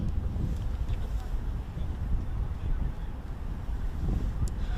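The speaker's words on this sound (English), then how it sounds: "We still got the enduring winds with high gusts of wind" Strong, gusty wind buffets the microphone outdoors at Cedar Lane Park in Columbia, Maryland, a steady low roar that rises and falls in gusts throughout, with no one speaking.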